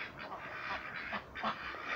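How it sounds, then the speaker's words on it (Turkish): Ducks quack close by in a small wooded area during morning care, several rough, overlapping calls scattered across two seconds. "Ördeklerim bakım yapıyorum"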